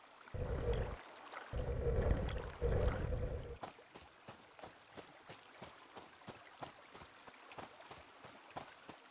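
Flowing water in the puzzle game Faraway 2 is heard as a few loud gushing pours, then a run of rhythmic clicking splashes.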